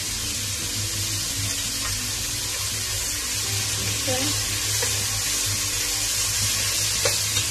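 Carrot, potato and tomato fry in a pan for a lentil soup, giving a steady, moderate sizzle with occasional soft stirring clinks and no voice over it.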